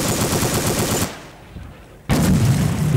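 Machine gun fire in Battlefield 1 on the Mare Nostrum map, rattling in rapid sustained bursts at close range, breaking off for about a second of near silence before resuming loudly.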